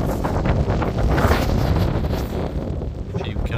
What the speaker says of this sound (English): Wind's getting up a little bit.